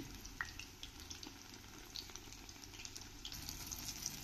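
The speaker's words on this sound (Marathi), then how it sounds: "ब्राऊन होतपर्यंत अशा खरपूस तळून घ्यायचे आहेत त्या वांग्याच्या फोडी" Eggplant pieces frying in oil until crisp and brown, a faint steady sizzle with scattered small pops and crackles throughout.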